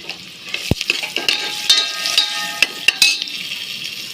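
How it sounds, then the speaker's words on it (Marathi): Peanuts and cumin frying in a pan with chili, giving a steady close hiss and crackle. Sharp metallic clinks of a spoon stirring and scraping the pan cut in now and then, with no voices. "आता शेंगदाणे पण छान फ्राय झालेले आहेत"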